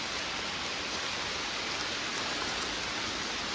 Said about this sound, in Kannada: ಕೋಟ ಹಾಕು, ಮಳೆ ಬರ್ತಾ ಉಂಟು